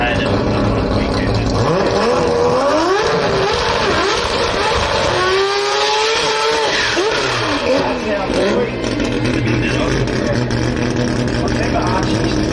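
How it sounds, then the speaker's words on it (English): A Mazda 6 race car does a burnout at a drag-strip jamboree, its engine revving hard with rising and falling pitch sweeps over continuous loud roar and tire noise, while a commentator talks over it. "Mazda 6 rolling up to the burnout box here"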